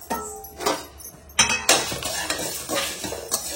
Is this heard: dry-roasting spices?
yes